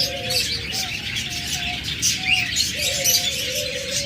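Grey cockatiels at a bird seller's give repeated short whistled calls over a constant wash of background noise and other bird chatter, moderately close.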